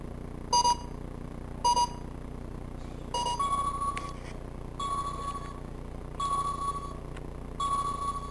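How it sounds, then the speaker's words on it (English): Electronic sonar pings from a LEGO NXT-G Battleship game ring out as short bright beeps, two quick ones and then several longer tones at a steady pace over a low constant hum. "Sonar sweep detects enemy craft."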